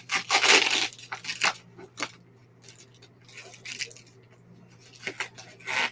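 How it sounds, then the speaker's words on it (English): Scissors snip and tear through packing tape on a parcel at close range, with crinkly cutting and ripping bursts, the loudest early on, then scattered quieter snips and rustles against a low steady hum. "Break out the scissors to get through the packing tape."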